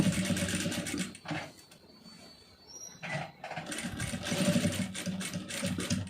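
Sewing machine running in steady bursts while stitching a Tamil-style piping design with a quarter-inch seam on a blouse neck piece, loud and close with short pauses between runs.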